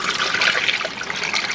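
A full gallon of water is poured into the radiator of a Ferrari 458, a continuous close gurgling splash and trickle of liquid filling the system.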